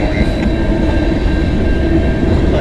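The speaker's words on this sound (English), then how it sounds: "this train is CN M397" A CN freight train rolls past close by on the Dundas Subdivision in London, Ontario, with a loud, continuous rumble and clatter of wheels on the rails.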